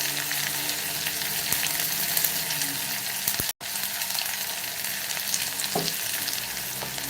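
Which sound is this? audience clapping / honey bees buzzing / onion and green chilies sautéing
onion and green chilies sautéing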